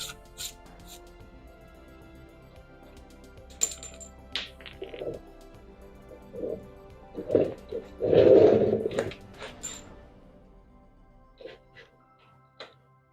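Slide Moto frame sliders coming off a supermoto bike: scattered metallic clinks and taps of tools and hardware, sparse and close, with a longer rattling scrape in the middle and quiet gaps between.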